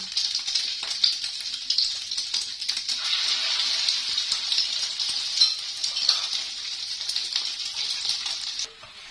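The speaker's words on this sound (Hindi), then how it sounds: "अब इनको हम इसे अंडे में डिप करके वो फ्राई कर लेंगे।" Shami kebabs dipped in egg sizzle and crackle in hot oil in a pan, a steady close frying hiss with scattered pops that runs throughout and cuts off near the end.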